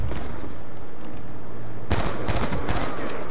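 Rapid bursts of video game gunfire crackle in quick clusters after a stretch of low background ambience, loud and sharp against the quieter start.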